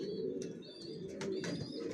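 Racing pigeons of a long-distance Johnson line, including young birds, coo in a loft with soft continuous murmuring and a few higher chirps, fairly close and steady throughout.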